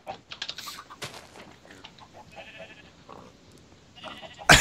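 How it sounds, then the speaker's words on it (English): Sheep bleating in the Minecraft video game, several short bleats scattered across the clip alongside clicking and game sounds, with a loud burst at the end. "The sheep aren't helping because they're just mauling everything with teeth."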